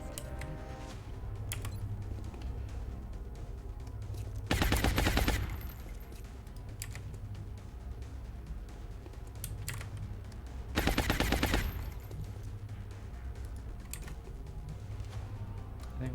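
Two short, loud bursts of rapid automatic gunfire from the turn-based game XCOM: Long War, spaced several seconds apart over a quiet, steady background.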